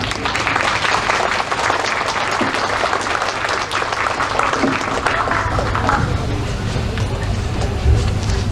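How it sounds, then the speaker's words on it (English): Audience applause at a political campaign kickoff evening, steady dense clapping from a crowd filling the room throughout, with a low hum and some murmur underneath. "So please give him a big hand of applause"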